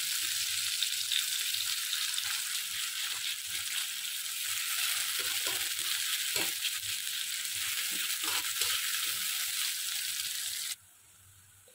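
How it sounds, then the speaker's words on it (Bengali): Chopped onions fry in hot oil toward brown, giving an even, dense sizzle with soft stirring knocks that runs steadily and then cuts off abruptly near the end. "পেঁয়াজ কুচি, পেঁয়াজটাকে একটু বাদামি কালার করে ভেজে নেব।"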